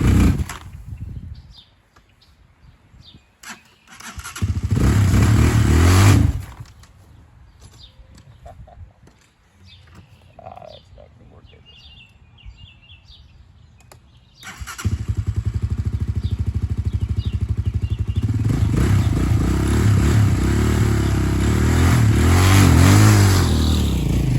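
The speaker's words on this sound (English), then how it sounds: "I'm gonna get the heck out of here, go ride this bike, have some fun." A Honda Hawk 250 motorcycle on a nice day revs loudly up close in a short burst, falls quiet, then settles into a sustained, strong engine drone as it rides off, with no talk.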